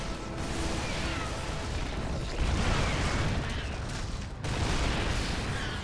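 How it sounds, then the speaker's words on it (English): A Zerg hatchery in StarCraft 2 explodes amid a battle, with heavy rumbling blasts and crashing bursts rolling one after another over continuous combat noise, loud and dense. "indeed a hatchery gonna explode here"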